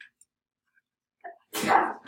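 A single sneeze in a 7th grade algebra classroom, preceded by a faint sharp inhale and then a loud burst, with the room otherwise quiet.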